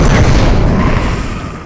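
A stone monster bursts apart in a video game explosion, a single loud, dense boom with heavy low rumble that fades away over under two seconds.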